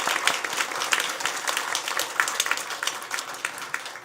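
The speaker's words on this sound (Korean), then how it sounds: "우리 뜨거운 박수로 격려하겠습니다" A Korean church congregation at an autumn early-morning prayer meeting claps in steady, moderately loud applause lasting several seconds, the many hands blending into an even patter.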